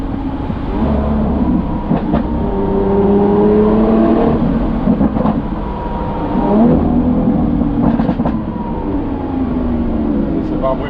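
A Lamborghini Aventador S engine revs and accelerates through its gears, loud and near, with rising and falling roars and brief shift breaks as people talk over it.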